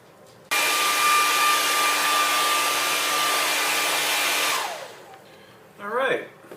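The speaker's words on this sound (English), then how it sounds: "Put on 2 coats, and I've sped up the drying time a little bit with a hairdryer." A hair dryer blows loudly and steadily for about four seconds, then winds down and cuts off, followed by a brief faint rustle.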